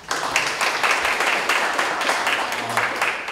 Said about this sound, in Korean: 좀 박수 부탁드립니다